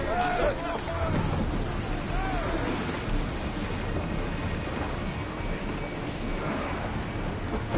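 A boat in a video game sails over ocean waves, giving a continuous loud wash of water and wind rumble that stays steady throughout.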